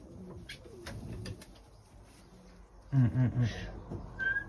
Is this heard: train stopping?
no